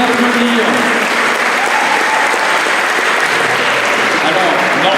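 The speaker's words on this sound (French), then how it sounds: "Merci de les applaudir." A congregation applauds a small group at the closing celebration of a diocesan pilgrimage in Lourdes, with loud, sustained clapping filling the space and faint voices beneath it.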